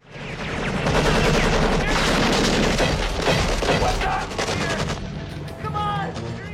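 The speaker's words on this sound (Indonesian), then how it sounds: "Miller pun segera mengambil snipernya sampai akhirnya terjadilah baku tembak" Heavy gunfire exchange in a war film sniper battle, dense overlapping shots and bursts with booming impacts, loud and continuous throughout.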